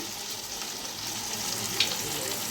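Potatoes and eggplant fry in oil for a pabda fish curry with aloo and begun, giving a steady, close, continuous sizzle that holds evenly throughout.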